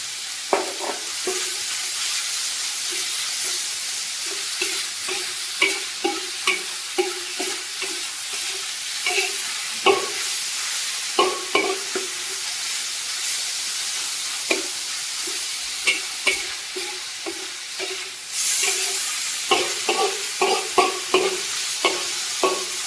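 Fat pork stir-fried in a wok to render its oil, with a steady loud sizzle broken by repeated scraping and stirring clatter from the spatula, and no voices.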